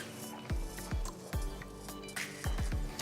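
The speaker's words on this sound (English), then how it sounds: "So I'm just going to mash the vegetables." Cooked vegetables for pav bhaji, simmering with masala and a little water, are mashed in a pan with a series of soft, squishy thuds, about six firm presses at an uneven pace.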